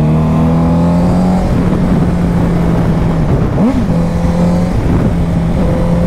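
A Honda CBR 650F motorcycle revs inside a tunnel, its engine note holding steady then rising and dipping in a quick blip before settling, loud and close with echoing roar.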